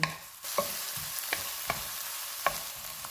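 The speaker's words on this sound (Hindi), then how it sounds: "ऑयल गर्म हो गया है, इसमें एक प्याज डालेंगे।" Onion frying in hot oil on a low-to-medium flame, a continuous close sizzle broken by several crisp spoon scrapes and taps at irregular intervals.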